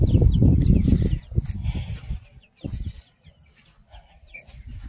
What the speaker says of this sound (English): He's a little bantam.